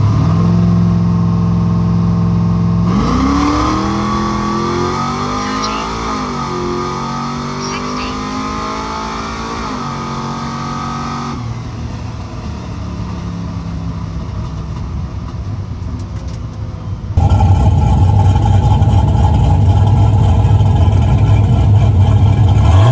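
A no-prep drag race car makes a test pass at Salem Motorsports Park, its engine revving and roaring loudly as it accelerates down the strip, with a commentator's voice talking over the sound.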